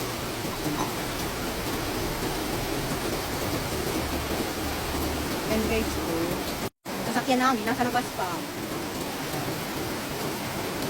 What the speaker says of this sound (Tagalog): ang lakas po ng ulan dito sa Cavite